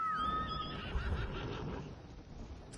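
A horse whinnies in the video game Ghost of Tsushima, a loud, high, wavering neigh that fades into low rumbling game ambience.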